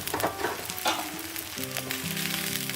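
Rava and poha paratha fry in oil or ghee on a pan, giving a close, even sizzle with crackling bursts, alone without speech.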